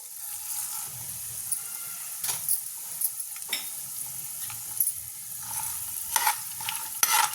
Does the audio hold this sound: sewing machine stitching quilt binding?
no